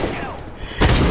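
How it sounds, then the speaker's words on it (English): Gunfire in the video game Counter-Strike: Global Offensive breaks out as a sudden loud burst near the end, following a quieter stretch with a voice speaking. "I hear gunfire."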